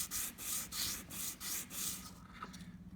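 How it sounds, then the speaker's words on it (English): A Corian piece rubbed by hand across sandpaper, its rough back being smoothed: five or six long rhythmic abrasive strokes, close and fairly loud, then a few shorter scrapes at the end, no voices. "put the whole piece on the sandpaper"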